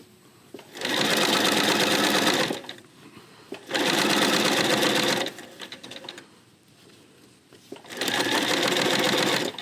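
A sewing machine stitches curved tile block quilt fabric in three loud, steady runs of about two seconds each, close up, with short quiet pauses between runs while the fabric is adjusted.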